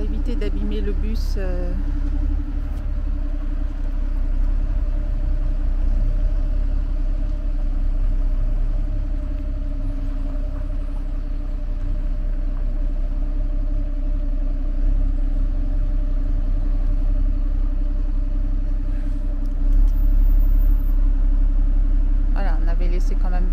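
A bus engine rumbles at a low, steady idle while the vehicle is slowly manoeuvred, a constant near drone with a brief louder surge near the end.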